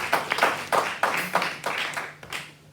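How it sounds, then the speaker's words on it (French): A church congregation claps for a choir leader, a fairly sparse group whose hands come in distinct uneven bursts, fading toward the end. "je demande à l'église de bien vouloir l'applaudir."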